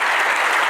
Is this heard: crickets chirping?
no